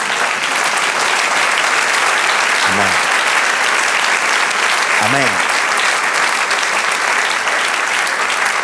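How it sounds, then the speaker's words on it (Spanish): A church congregation applauds loudly and continuously for the Lord during a sermon. The dense clapping fills the whole stretch while voices call out over it twice. "Den un aplauso al Señor"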